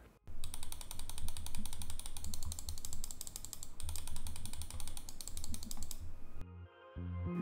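Rapid, crisp clicking of a Mountain Makalu Max mouse button with Kailh GM 8.0 switches, repeated in a fast, steady stream for several seconds, then stopping abruptly.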